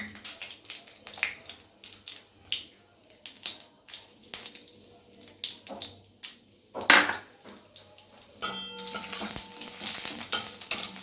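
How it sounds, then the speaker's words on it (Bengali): Dried red chillies and whole garam masala sizzle in hot oil in a pan, with frying crackle building and stirring clinks, scrapes and taps throughout, loud and close. "তারপরে দিচ্ছি শুকনো লঙ্কা এবং শেষে দিচ্ছি গোটা গরম মশলা।"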